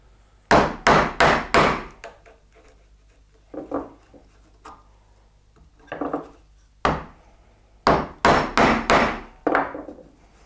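A chisel chopping a mortise in wood gives sharp, close mallet blows in quick clusters of three to five strikes, separated by pauses and quieter single taps.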